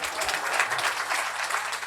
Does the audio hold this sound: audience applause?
yes